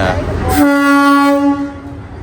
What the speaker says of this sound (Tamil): இதோ வந்துச்சு பாரு ட்ரெயின்.